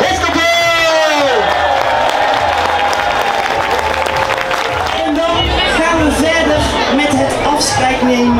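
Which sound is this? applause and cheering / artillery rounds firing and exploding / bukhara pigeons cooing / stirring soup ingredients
applause and cheering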